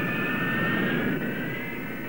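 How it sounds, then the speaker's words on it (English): Steady roaring whine of a jet engine run up to higher speed on a ground test, continuous and loud with no talk. "the engine is opened up to higher speed, and finally shut down"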